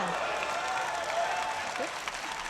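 A crowd at the 2019 World Classic Powerlifting Championships, men's 83 kg open, applauds a lift with steady, sustained clapping, and a voice speaks over it.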